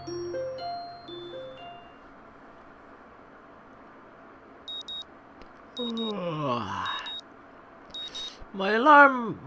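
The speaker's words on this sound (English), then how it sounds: "My morning alarm goes off" A morning alarm clock in the visual novel Katawa Shoujo gives a few short, rapid electronic beeps amid quiet game music and chimes.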